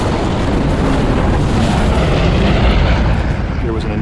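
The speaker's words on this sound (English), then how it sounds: "the explosion hits" A massive detonation of 20,000 pounds of explosives, an initial blast merging into a secondary one, heard as a sustained, loud, dense roar with low rumble that stays near and powerful for the full span without letting up.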